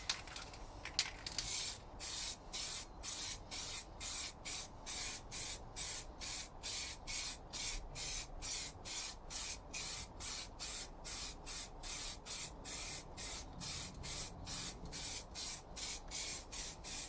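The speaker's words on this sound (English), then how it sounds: "But realistically, I'm just going to be painting this part here." An engine part on a 1988 Nissan Silvia S12 with a CA18ET engine being spray painted, with a long run of short, evenly spaced aerosol hisses close by, repeating in a steady rhythm with brief gaps.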